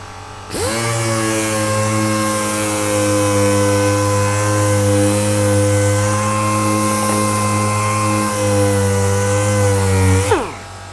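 Power sander working 180 grit sandpaper over a car bumper during bodywork restoration on a Suzuki Wagon R+, a steady loud motor whine with a low hum that runs unbroken for about ten seconds, then cuts off abruptly.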